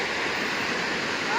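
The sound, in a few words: Tada waterfall rushing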